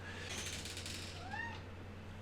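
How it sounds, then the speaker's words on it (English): A cat meows at a door, giving a couple of faint, drawn-out cries over a steady low indoor hum. "I'm going to open the door because the cat's yelling at it."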